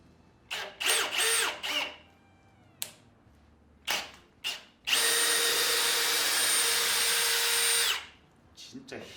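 A hammer drill bores into wood: several short revving bursts, then a loud, close, sustained grinding run lasting about three seconds before it cuts off.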